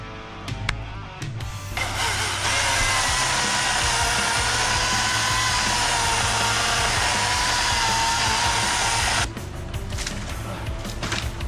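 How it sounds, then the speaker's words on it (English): Chainsaw running at high revs on an abandoned off-road wheeling trail, a loud steady buzzing drone for several seconds between shorter rattling bursts, with an idling engine rumble underneath. "Never come wheeling without your chainsaw"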